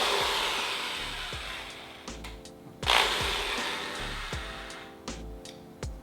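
A power drill bores mounting holes for an outboard motor on a 13-foot Boston Whaler. Its steady motor whine rises and falls through several short bursts, with a louder surge near the middle, heard close up.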